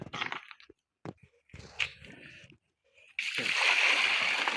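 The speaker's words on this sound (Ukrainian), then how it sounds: "Злили два відра води." Two buckets of water poured out while a mangal grill slab is being made by hand: scattered sloshing and knocks give way to a steady, loud rushing splash in the last second and a half.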